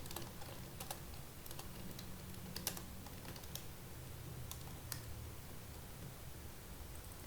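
Soft typing on a computer keyboard, irregular clusters of light key clicks over a steady low hum, fairly quiet and close, with no voices.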